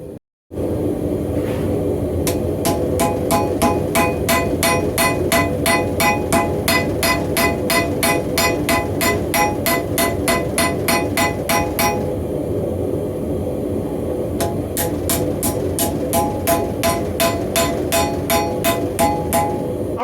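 Steady rhythmic hammer blows ring out on an anvil as a railroad spike is forged and its handle drawn out, loud, close and evenly paced, with a brief pause partway through and no talking.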